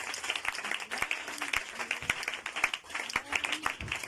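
A church congregation claps together in a loud, brisk burst of applause during a healing service, the hand claps dense and close for a few seconds.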